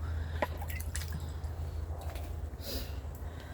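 Rice-rinse water drips and trickles onto potted fancy-leaf caladium plants during watering, soft close wet patters and splashes over a low steady hum, with no talk.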